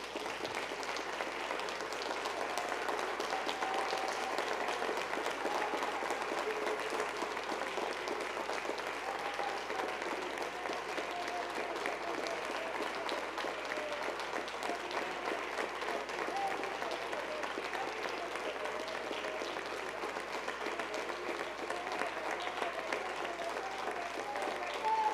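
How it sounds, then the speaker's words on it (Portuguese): A church congregation applauds in a long, even wash of clapping that stays steady and moderately distant, with a low hum underneath and faint voices mixed in. "Vamos aplaudir o nome de Jesus."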